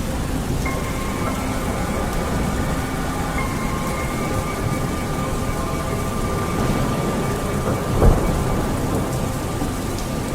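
Cartoon thunderstorm with steady heavy rain pouring throughout, low rumbling thunder and a sharp thunder crack near the end, no voices.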